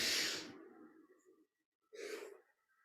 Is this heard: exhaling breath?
yes